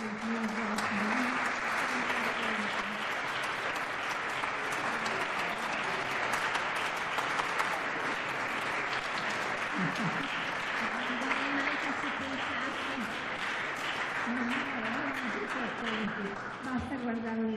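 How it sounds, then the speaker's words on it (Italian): Sustained applause from an audience at a public talk about the Italian Resistance, steady and dense, filling the whole stretch at even loudness, with a few voices faintly heard beneath the clapping. "forse siamo stati un poco generosi anche di applausi"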